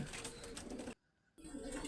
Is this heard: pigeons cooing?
yes